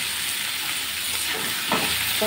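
Duck egg masala with chili, turmeric, salt and coriander powder sautés in a pan, giving a continuous soft sizzle and hiss with a brief stirring scrape near the end.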